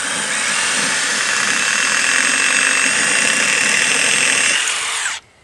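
A power drill with a masonry bit bores into the horizontal mortar joint of a brick wall, a loud, steady whine for about five seconds before stopping abruptly.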